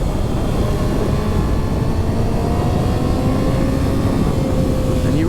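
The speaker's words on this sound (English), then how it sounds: "Really got to rev the engine." A 2020 Kawasaki ZX6R motorcycle engine runs loud and close, with a rising, revving tone over heavy wind rush, sustained throughout without talk.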